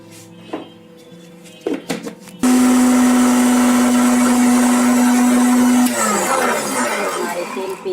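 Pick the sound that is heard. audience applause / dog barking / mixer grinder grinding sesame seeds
mixer grinder grinding sesame seeds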